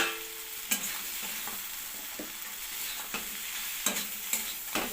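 Taro stolons frying in a pan with sugar and spices, a steady sizzle punctuated by several sharp clanks and scrapes of a spatula as they are added and stirred.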